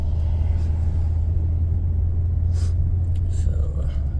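A car drives along a road through the small desert town of Chloride, Arizona, its steady low engine and road rumble continuous throughout, with a few faint higher sounds passing briefly.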